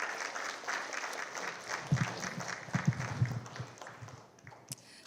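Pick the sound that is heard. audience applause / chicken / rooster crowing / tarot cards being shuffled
audience applause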